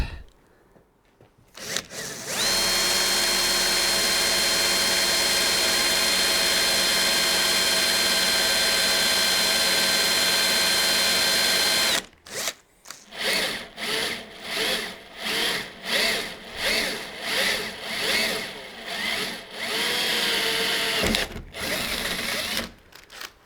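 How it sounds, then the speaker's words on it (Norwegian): A power drill boring holes in metal with a 3mm HSS bit during a Land Rover Discovery gullwing window fitting: one long continuous high whine, then a run of short repeated bursts as the trigger is pulsed. "Starting with a 3mm drill bit."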